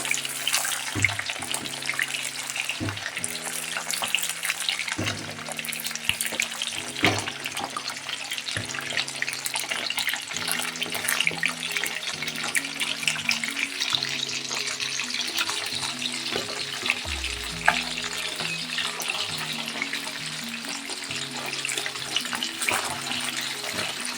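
Fish frying in hot oil sizzles steadily and evenly for the whole stretch, with a faint low hum and tonal background sounds running underneath and no one talking.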